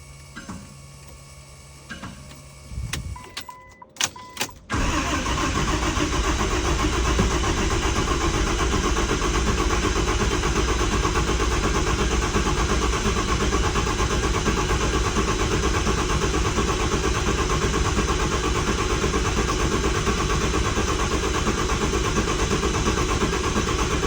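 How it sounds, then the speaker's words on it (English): A car engine with a new starter and lift pump: a few seconds of quiet clicks and clunks, then an abrupt switch to a loud, continuous, even mechanical drone that carries on unbroken for about twenty seconds. "Let's go ahead and crank on it for a second."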